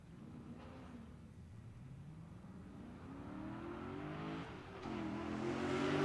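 A 2011 C6 Corvette Z06 accelerates hard down a drag strip, its engine note climbing steadily through the gears with a brief shift dip near the end, loud and continuous with no talk.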